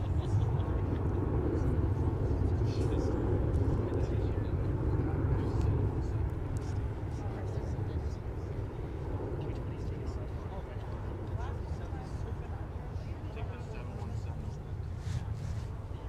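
Delta Airbus A330-900neo airliner taking off at Minneapolis–Saint Paul airport, a steady, heavy jet roar heard from a distance that slowly fades, with a voice talking over it.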